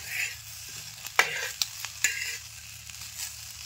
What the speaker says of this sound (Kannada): ಅದಕ್ಕೆ ಇವನು ಹುರಿದು ನೋಡ್ರಿ ಎಣ್ಣೆ ಹಚ್ಚಿ ಹುರ್ಕೊಳ್ತೀನಿ